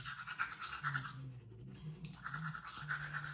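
Teeth being brushed with a toothbrush, a soft rhythmic scrubbing of repeated strokes close up, with a brief pause midway before the brushing resumes.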